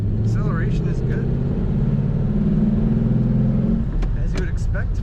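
A 1940 Ford Standard coupe engine drones and revs steadily throughout while accelerating, with someone talking over it close by.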